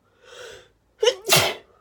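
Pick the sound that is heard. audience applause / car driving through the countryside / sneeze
sneeze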